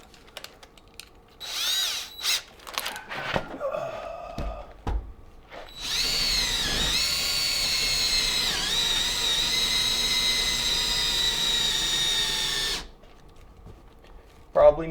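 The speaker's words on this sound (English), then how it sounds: "Go ahead and drill our front hole." After some handling clatter and brief talk, a power drill whines steadily at high pitch for several seconds while drilling a hole for a seat install in a 1970 Chevelle, then cuts off abruptly.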